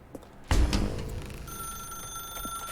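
A telephone rings in The Stanley Parable game, a sharp burst followed by a sustained bright electronic tone that lingers steadily over low background noise, with no voices.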